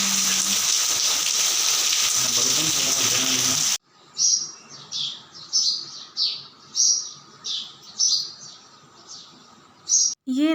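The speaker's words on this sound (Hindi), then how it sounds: "परिंदों की इतनी प्यारी प्यारी आवाज़ें आ रही थी कि मैं आपको नेचर साउंड सुनाना चाह रही थी" Early-morning birds sing at about 5 a.m. after heavy rain. A steady hiss of rain opens the scene, then drops away to leave a rhythmic series of clear, bright chirps repeating every second or so.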